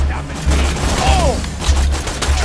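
Borderlands 2 gunfire bursts out in uneven, spread-out volleys with booming low thumps, loud and close, mixed with game effects and a whistling tone.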